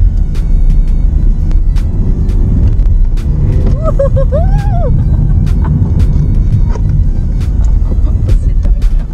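Renault Mégane 4 accelerating through corners, a loud, continuous low engine and road rumble heard from inside the car, with a brief whine in the middle.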